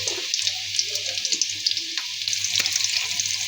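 Whole garam masala sizzling in hot oil in a wok for chicken haleem, a steady close crackling hiss with small pops and faint stirring scrapes, no voices.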